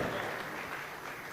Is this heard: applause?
yes